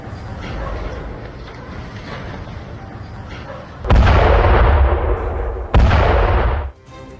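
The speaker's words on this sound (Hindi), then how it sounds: "ड्रोन से इनको ट्रैक किया गया और फिर धमाका करके बड़ा नुकसान पहुंचाया गया" Two heavy, loud drone strike explosions in Lebanon with a rumbling roar, following a stretch of steady low rumble and crackle, each burst cutting off abruptly.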